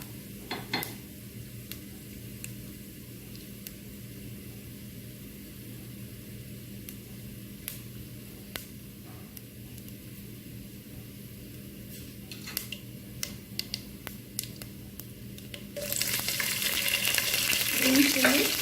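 Cumin seeds fry in a pan for a chicken curry with a steady, close sizzle and occasional sharp crackles and utensil clicks. The sizzle swells into a louder, brighter hiss near the end.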